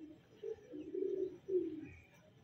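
A young Majnu Teddy breed pigeon from Lahore, held in the hand, gives soft, low coos in a few short pulses, close by and quiet.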